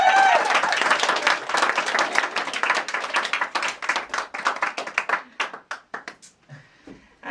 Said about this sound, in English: Clap your hands if you believe in fairies.